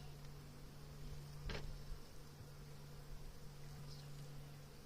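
Italian honey bees buzz faintly inside a newly installed hive, a low steady drone with a soft tap or knock partway through.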